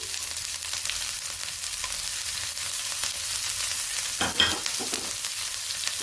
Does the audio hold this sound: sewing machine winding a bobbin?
no